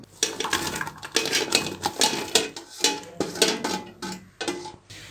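Coarsely chopped onions, about 1.5 kg, tumble into a metal pressure cooker with a run of clattering, clinking knocks against the pot, close and fairly soft, with no talk.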